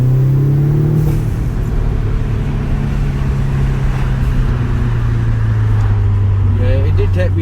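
A tuned Audi S3 pulls hard in third gear, its engine droning loudly and steadily from inside the cabin as the pitch rises gradually, with no talk over it.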